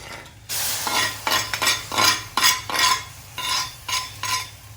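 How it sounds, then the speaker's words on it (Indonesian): Soybean sprouts and long beans are stirred in a hot wok, with repeated scraping strokes of a metal utensil in an uneven rhythm over a soft sizzle. "Proses terakhir adalah mencampurkan seluruh bahan dan bumbu ke wajan."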